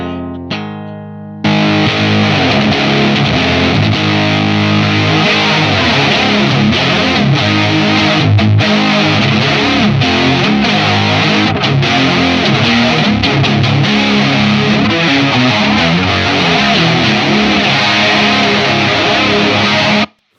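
A heavily distorted electric guitar plays loud and sustained through an Old Blood Noise Endeavors Excess V2 pedal, distortion run into modulation, its tone swirling with a wavering modulation effect throughout.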